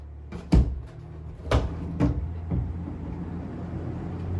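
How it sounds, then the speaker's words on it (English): Sliding pocket door in a converted shed tiny house, pulled along its track with several solid thumps and rolling hardware rumbles close by. "And it is a pocket door as well."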